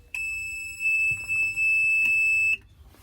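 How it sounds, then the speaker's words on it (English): A train's emergency stop buzzer on a heritage railway sounds a loud, piercing continuous tone close by, lasting over two seconds before cutting off, with no talking. "Ensure the buzzer sounds, the red light illuminates, and again cancel by pressing your acknowledge button."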